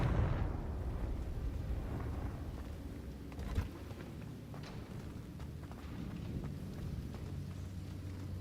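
The Confringo fire spell explodes in Hogwarts Legacy with a deep, rumbling blast at the start, then a sustained roar that fades into a steady low rumble, broken by one sharp pop partway through.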